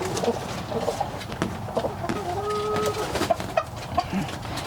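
Several chickens, including a rooster, cluck and murmur close by, with a few sharper squawks and a drawn-out call in the middle.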